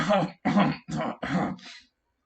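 A voice imitates someone coughing and sputtering up water in five harsh, wet bursts, then falls silent.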